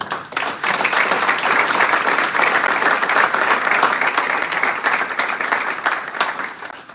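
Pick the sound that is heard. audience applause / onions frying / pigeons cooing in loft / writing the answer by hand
audience applause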